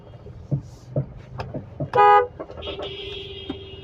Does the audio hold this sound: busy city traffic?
yes